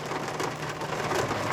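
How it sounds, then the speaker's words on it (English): Steady rain falls outside a parked car, an even, dense patter with soft low rumble, continuous and fairly loud with no voices. "It's raining out here."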